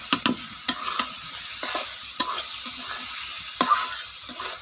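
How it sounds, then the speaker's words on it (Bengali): Leafy greens hit hot oil in a pan and are stirred, giving a steady close sizzle with sharp scraping clicks from the spoon at irregular intervals, no voices. "তো ভাজা হয়ে গেছে, এখন এই যে শাকটা দিয়ে দিচ্ছি।"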